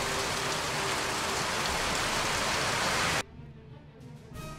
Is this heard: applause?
no